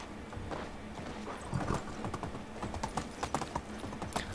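Donkey hooves clip-clopping at a slow walking pace in Medieval Dynasty, a steady run of close, distinct hoofbeats over an ambient game background.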